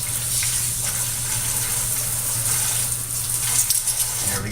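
Tap water runs steadily into a kitchen sink while a cook quickly cleans a pot, a continuous gushing hiss with faint clinks and scrubbing, close and without talk.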